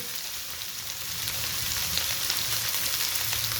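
Okra slices fry in a pan with a continuous bright sizzle and crackle, steady and close, with faint scattered pops and no voices.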